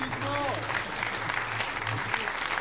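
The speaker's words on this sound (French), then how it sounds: "Bravo, Beat, il mérite un applaudissement." A crowd applauds steadily and loudly for a performer at a comedy show, a continuous wash of clapping with voices talking and calling out underneath.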